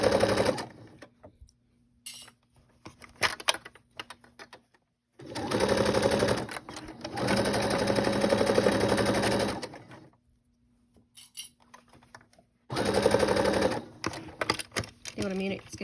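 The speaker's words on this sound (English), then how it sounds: "I'm going to sew all the way around, and I'm going to back stitch at every seam to reinforce it" A Brother SE600 sewing machine stitches around a fabric gift bag in several separate runs broken by pauses, with short back-stitch bursts and handling clicks between the runs.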